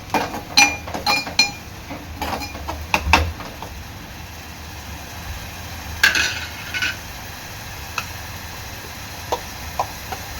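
Ground ginger, garlic, chili, coriander and coconut paste stirred into oil in a pan while cooking a prawn and potato curry, with repeated metal clinks of a spoon against the pan, irregular and close, over a faint background hiss.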